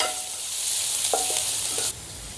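Onion slices fry in hot oil in a pan for a home-style gobi 65, producing a loud, continuous bright sizzle with a couple of soft stirring knocks before the sizzle drops in level near the end.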